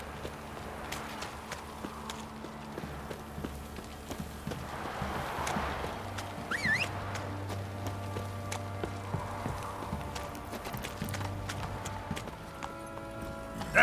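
Roach, the player's horse in The Witcher 3 video game, gallops with a steady hoof clip-clop rhythm through a continuous in-game ambience, with a low drone and occasional faint background voices.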